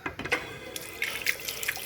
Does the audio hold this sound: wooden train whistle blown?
no